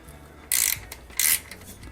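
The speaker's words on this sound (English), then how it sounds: "I'm going to remove these lower mounting bolts as well." Two short bursts of ratcheting as a wrench loosens the lower mounting bolts of a Surly front rack on a bicycle, close and crisp, separated by a brief pause.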